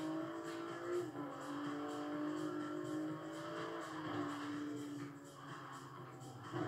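Car engine in a racing video game, a steady droning hum with shifting pitch as the car drives, continuous and fairly loud throughout.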